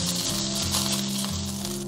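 Crispy pork sausage pieces pan-fry over medium-low heat in a thin layer of cooking oil, producing a continuous loud, close sizzle with no talking.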